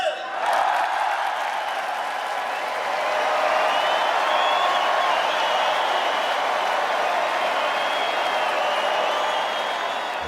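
Large concert crowd in France cheering and applauding, a sustained wash of clapping, whistles and shouting voices that swells slightly and holds at a loud, distant, roomy level.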